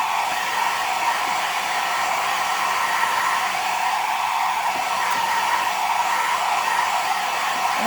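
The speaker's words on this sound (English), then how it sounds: "I'm going to very quickly take my blow dryer here." A handheld blow dryer runs steadily in a drawing and painting studio, its even, continuous airy whir staying close and fairly loud with no talking.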